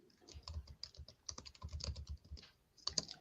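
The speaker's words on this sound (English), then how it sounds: "I'm typing up the cymatics video in the chat" Keys on a computer keyboard clatter in quick, uneven bursts of typing with short pauses between, close and fairly quiet, and no one speaks.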